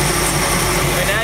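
A truck engine idles steadily while warming up, giving a continuous close rumble with a buzzing low hum and broad mechanical noise that holds even throughout.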